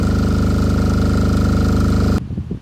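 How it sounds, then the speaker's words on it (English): An MEP 831A military generator engine runs with a loud, steady idle pulse and then cuts down abruptly near the end, leaving a faint low rumble. "It idles down nice and smoothly"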